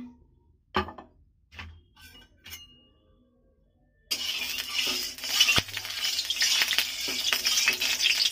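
Oil heats in a wok on a gas stove for frying potatoes; a few clinks come first, then a steady sizzle and crackle rises and continues.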